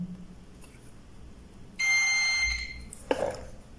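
On a motherboard, a multimeter in continuity mode, with its probes on circuit traces, gives a steady electronic beep lasting about a second, then a short chirp, over a faint background hiss.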